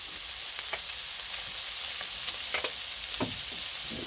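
Smash burger patties sizzle on a hot griddle in a steady, close frying hiss, with a few soft clicks and scrapes over it and no talking.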